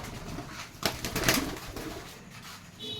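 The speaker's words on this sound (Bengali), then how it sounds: "এই যে কালো চোখের সবুজ কবুতর, জোড়া আছে মাদি একটা" Pigeons coo softly at close range in a home loft, a few low murmuring calls with brief wing flutters, no talk over them.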